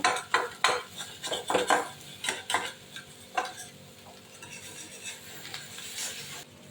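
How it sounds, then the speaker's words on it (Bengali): A spoon scrapes and clanks against a pan as taro and potato are mixed with crushed green chili, with a quick run of close metallic strokes that slows into softer intermittent scraping over a low sizzle. "লঙ্কার সঙ্গে সুন্দর করে কচু আলু দিয়ে সুন্দর করে মিশিয়ে নেব"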